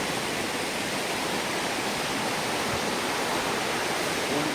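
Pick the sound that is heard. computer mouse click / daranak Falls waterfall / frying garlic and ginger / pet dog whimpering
daranak Falls waterfall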